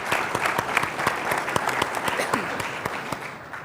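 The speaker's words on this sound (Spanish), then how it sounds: "un aplauso también para él por acompañarnos" An audience at a Chilean science policy forum claps, with distinct individual hand claps standing out over a steady wash of applause for several seconds, moderately loud and fairly near.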